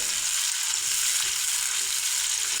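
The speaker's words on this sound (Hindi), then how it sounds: "प्याज को हमने घी में डाल दिए थे।" Finely chopped onions frying in ghee for kadhi pakora, a constant bright hiss of sizzling oil with faint crackles, steady and close, no talking.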